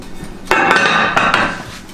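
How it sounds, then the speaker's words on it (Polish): Lid closing on a baking dish of potatoes, with a sharp clattering clink followed by a few rattling knocks close by and a brief ringing tail. "To proszę zamknąć naczynie."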